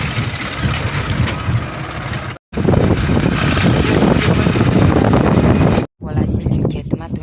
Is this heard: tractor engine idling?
yes